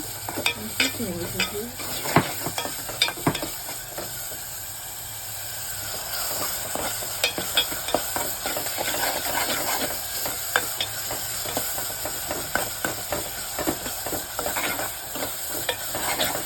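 Food fries and gets stirred in a home kitchen pan with a continuous sizzle and frequent sharp scrapes and taps of a spatula, steady and close throughout, no one speaking.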